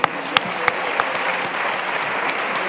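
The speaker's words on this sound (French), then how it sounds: "on vous applaudit nous-mêmes" Audience applause at the close of a student talk session: a few sharp, close claps at the start swell into steady, sustained clapping from the crowd, moderately loud and alone.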